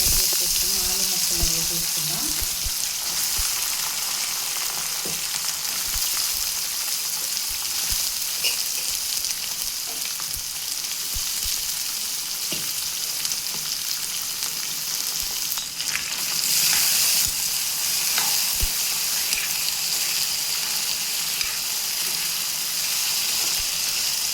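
Tempering seeds, garlic and curry leaves fry in hot oil, a loud continuous sizzle with spattering crackles and occasional stirring scrapes running steadily throughout, no talk over it.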